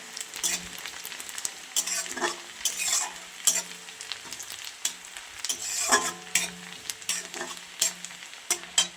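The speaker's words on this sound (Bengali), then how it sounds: "পেঁয়াজটা লাল হয়ে ভাজা হয়ে যাচ্ছে," Onions sizzle in a pan while a utensil repeatedly scrapes and stirs, giving uneven bursts of crackle and scraping over a steady fry.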